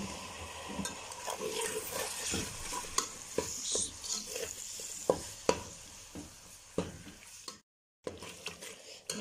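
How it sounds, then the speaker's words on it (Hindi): Chopped tomato, a green chilli and spices fry quietly in a pan, a soft sizzle under repeated scraping and clinking stirring strokes, with a brief pause near the end. "मसाले की अच्छी तरह भुनाई होगी।"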